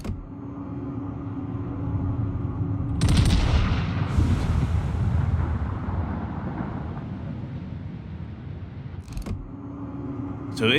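Battleship gunfire in World of Warships, a heavy booming salvo around the third second followed by a long rumbling roar, with a sharp blast near the end over a steady low engine-like hum.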